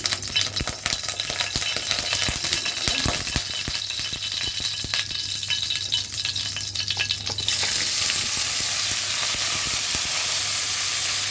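Fish fry lightly in a hot pan with a continuous, close sizzle and crackle. Scattered pops and stirring rattles come through, and the hiss grows brighter and steadier toward the end.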